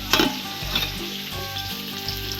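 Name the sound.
Katla fish head frying in a pan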